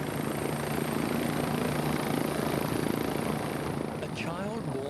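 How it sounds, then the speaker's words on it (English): A helicopter flies close by with a steady, loud rotor and engine roar that holds constant throughout, easing slightly near the end. "The best way is by helicopter."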